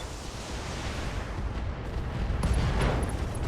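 Ammo explosion in the BattleTech video game, a dense, loud rumbling blast that swells and continues as a roaring wash of debris and fire with no talk over it.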